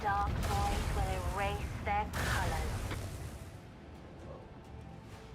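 Macro cannons in the Warhammer 40k Rogue Trader video game fire in a short, abrupt burst under ongoing talk.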